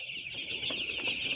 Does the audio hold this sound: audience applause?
no